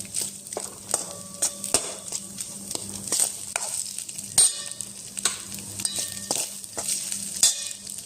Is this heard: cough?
no